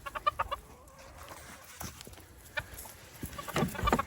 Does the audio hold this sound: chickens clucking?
yes